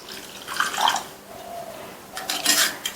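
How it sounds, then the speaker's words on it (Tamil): Lukewarm water poured into a cup for making rava puttu, a splashing, trickling pour in short bursts with a brief pause between, fairly close and alone without talk. "1/3 கப் அளவுக்கு வெதுவெதுப்பான தண்ணி சேர்க்குறேன்"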